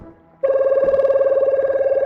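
A telephone rings inside the Loan Shark video game, starting abruptly after a brief quiet moment and then holding as a loud, steady, warbling electronic bell with no talk over it.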